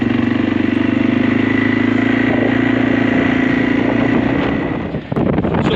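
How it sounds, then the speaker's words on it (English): A quad bike engine drones loud and close while riding off-road, holding a steady rough tone that dips briefly near the end before picking back up. "so we're going to be cutting around on Dan's quad"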